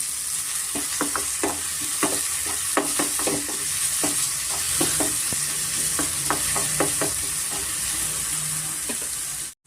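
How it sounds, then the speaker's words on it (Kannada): Onions frying in a pan with turmeric and salt: a continuous close sizzle broken by many quick scraping stirs and light tapping of a spatula on the pan, which goes abruptly quiet at the very end. "ಫ್ರೆಂಡ್ಸ್ ಈ ಆನಿಯನ್ನು ಇಷ್ಟು ನಾವು ಚೆನ್ನಾಗಿ ಫ್ರೈ ಮಾಡ್ಕೊಂಡಷ್ಟು ನಮಗೆ ಟೇಸ್ಟು ತುಂಬ ಚೆನ್ನಾಗಿರುತ್ತೆ"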